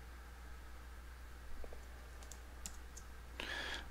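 Computer keys and a mouse click lightly in a quiet room, a few sparse soft taps spread out, then a brief brighter burst near the end, all faint under a low steady hum.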